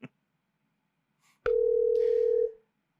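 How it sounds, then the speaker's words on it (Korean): A telephone line tone sounds during a failed call-in attempt on a live broadcast: a steady, loud, single-pitched tone that lasts about one second and then cuts off, with near silence before it. "전화 연결이 안타깝게 안 되고 있습니다."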